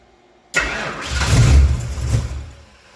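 A big-block V8 in a 1983 Ford Mustang GT Foxbody cranks and fires abruptly, then roars up briefly in a loud, close burst before fading as it shuts off.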